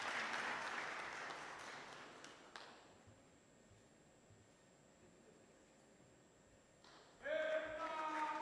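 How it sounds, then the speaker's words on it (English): An audience applauds at an inaugural professorial lecture, a dense round of clapping that tapers into quiet before a voice begins speaking. "Oh, a bigger round of applause"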